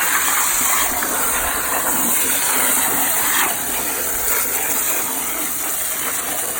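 Water gushes loudly and continuously from a hose or tap, rinsing a helmet and gear beside buckets after riding a Kawasaki Ultra 310R jet ski, a dense unbroken rush close by.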